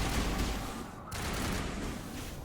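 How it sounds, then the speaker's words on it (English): Rapid enemy gunfire in the Mass Effect game, a dense continuous volley of shots heard throughout with a brief thinning near the middle, loud and close. "they can really shoot me from over here"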